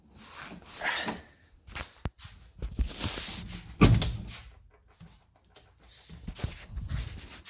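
Repeated metallic clunks, rattles and thuds of a stubborn lifted Jeep door being yanked and pried at close range, irregular and effortful.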